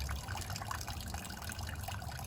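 Gasoline draining from the fuel tank of an old Willys truck with a 226 engine into a roughly one-gallon container, a faint, steady trickling and splashing of liquid with no talk.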